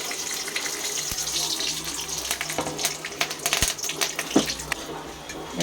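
Mustard seeds and dried red chillies spluttering in hot oil for a tomato chutney, a busy close crackle with sharp pops and ticks.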